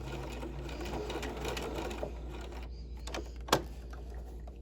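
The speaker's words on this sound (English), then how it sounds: "And then I'm going to back stitch." A sewing machine back stitches through garment fabric, a soft steady mechanical whir with a brief pause and a sharp click near the end, close and fairly quiet with no talk.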